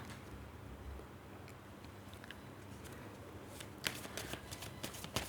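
Romance Angel oracle cards being shuffled by hand, a faint papery riffle that turns into crisp close flicks and snaps near the end, with no talking.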